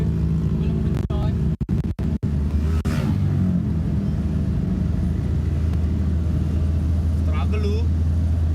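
A minibus angkot engine strains under load with a steady low rumble, joined by a few sharp knocks and brief voices.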